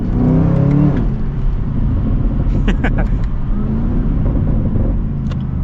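A 2024 Chevrolet Camaro ZL1 engine rumbles loudly as it accelerates, the deep exhaust note rising, then settling into a steady drone.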